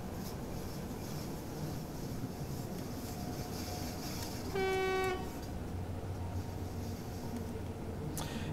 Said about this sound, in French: On va freiner.